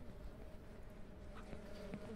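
Bees buzzing around a hive in the farming video game Ranch Simulator, a faint continuous insect drone with a few soft knocks, no voices.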